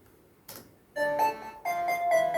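An electronic song opens with synth chords and a bright synth lead entering in stepped bursts, clean sustained tones with no voices.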